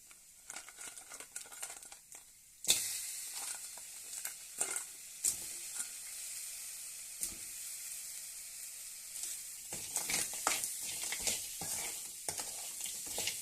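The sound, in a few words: crab sizzling and being stirred in spices in pan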